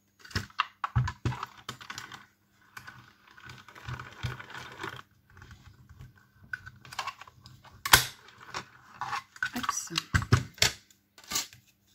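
Paper being cut for a handmade warm and cosy greeting card, with scissors snipping and paper shuffling in short irregular bursts over about twelve seconds, mixed with a voice talking.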